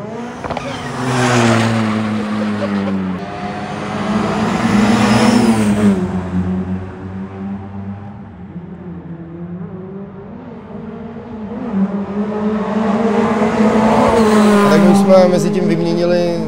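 A newly built historic rally car races past at the Prague RallySprint 2024, its engine note swelling loud, fading and rising again, with a person talking over it.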